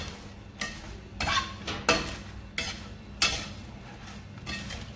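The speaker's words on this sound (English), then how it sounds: "The sugar is quickly browning, so I have to stir." Melting sugar and popcorn are stirred in a frying pan, a run of scraping strokes roughly every half second rattling the kernels against the metal, close up with a faint sizzle beneath.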